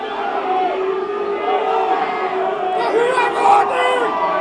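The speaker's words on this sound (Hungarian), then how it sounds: "A játékvezető elleni indulatokat hallhatják" Football crowd at a Hungarian second-division match, BMTE against Békéscsaba 1912 Előre, shouting angrily at the referee, a sustained loud roar of massed voices with harsher surges toward the end.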